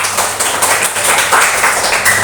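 Students in a classroom applaud in a loud, dense wash of clapping that stays steady and close for a couple of seconds, with no speech on top.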